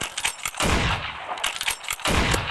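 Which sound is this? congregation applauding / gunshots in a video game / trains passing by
gunshots in a video game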